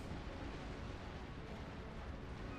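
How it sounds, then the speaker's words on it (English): A warship's cannon broadside in the naval battles of Napoleon Total War comes through as a dense, continuous low rumble of heavy gunfire that stays loud and steady throughout, with no voices. "He gets the first broadside in."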